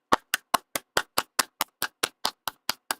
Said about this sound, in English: I have to do a real clap